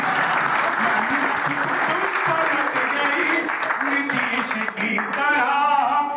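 A crowd claps steadily throughout, with a person's voice speaking over the applause nearly the whole time.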